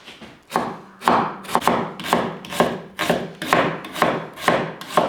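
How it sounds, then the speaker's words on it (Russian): Knife chopping onion on a cutting board, about ten firm, evenly spaced cuts with a short slicing rasp after each, close and clear with no talk. "Подготовимся, нарежем лук."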